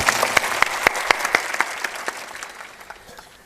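Audience at a Hindi storytelling gathering bursts into loud applause, the dense clapping peaking early and thinning out toward the end over about three seconds.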